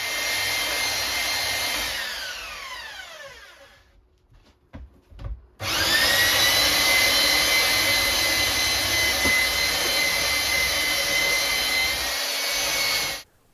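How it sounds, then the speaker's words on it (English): A belt sander fitted with a 40 grit belt aggressively shapes oak whisky barrel stave wood with a loud, close, grinding roar. It winds down, falls silent with a few knocks, then starts up again and runs steadily before cutting off. "it took a lot of sanding using a belt sander with 40 grit belt on to aggressively shape the wood"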